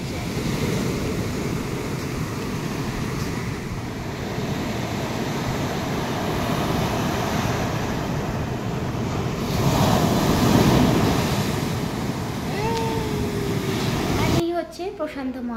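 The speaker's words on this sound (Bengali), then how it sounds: "বেশ বড় বড় ঢেউ উঠছে।" Large Pacific Ocean waves roar steadily on a shore in Japan, a continuous loud surf wash with heavy wind buffeting the microphone, swelling briefly in the middle before a clattering handling noise near the end.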